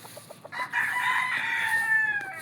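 A rooster crows loudly and close, preceded by a few soft clucks from chickens nearby.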